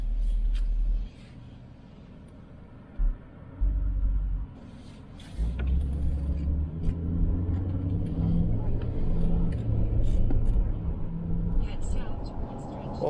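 A Jaguar XK8 pulls back onto the road, engine rumble and road noise building from a low idle into a steady, close cabin drone after a few brief bursts.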